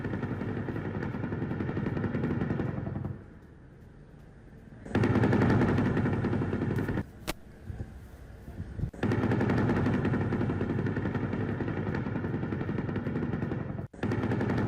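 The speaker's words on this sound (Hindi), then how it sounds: "पर फायरिंग का वीडियो आया सामने, ये देखिए जरा।" Gunfire in Rafah comes in long rapid bursts, loud and sharp, broken by a couple of quieter pauses and a single cracking report, with no voices heard.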